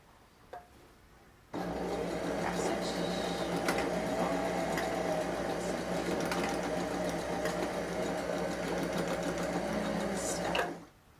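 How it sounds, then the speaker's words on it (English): After a quiet start, a sewing machine starts up and runs steadily for about nine seconds, stitching forward and back over elastic on a skirt, then stops. "do a couple of forward and backward stitches so it really adheres to the elastic sides"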